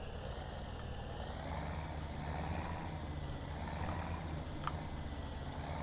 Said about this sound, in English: So we'll back a trailer up here to the loading ramp.